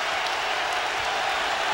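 A basketball crowd of Cornell fans at a 2010 NCAA regional semifinal against Kentucky, a loud continuous roar of cheering and applause filling the arena without a break.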